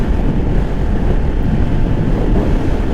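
Strong headwind roars across the microphone while riding a Honda Navi motorcycle on a road, a loud, steady rushing wind noise that covers everything else.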